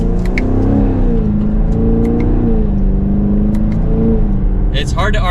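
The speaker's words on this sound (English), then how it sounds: "It's hard to argue the sound of that V8" A 2024 Chevrolet Camaro 2SS V8 in sport mode with paddle-shift manual setting, under mild acceleration: a deep, rising engine note heard from inside the cabin, climbing through revs and shifting once, with a faint click or two near the end.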